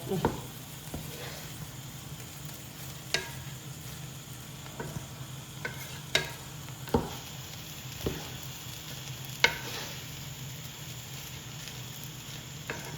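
Fried rice being stirred and mixed with ground pepper in a pan, soft sizzling under sparse, irregular scraping and tapping clicks from the utensil, fairly quiet and close.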